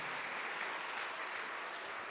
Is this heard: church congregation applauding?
yes